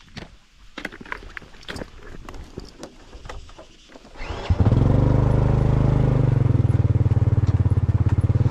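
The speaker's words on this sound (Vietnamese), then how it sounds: "Cho nên mình sẽ đi xe máy." A motorbike engine starts partway through after some rustling and handling noises, then settles into a loud, steady close-up drone for the rest.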